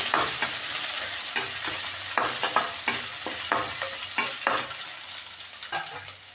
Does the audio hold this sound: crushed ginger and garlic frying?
yes